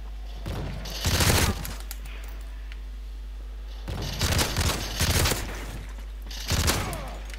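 Bursts of automatic gunfire in a Call of Duty match, several rapid fusillades in short clusters, fairly close and sharp over a low steady background hum.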